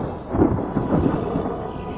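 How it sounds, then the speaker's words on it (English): Thunder rumbles low and heavy during a thunderstorm, a loud rolling boom that swells and lingers, with no voices over it. "Dear God, please let the storm stop."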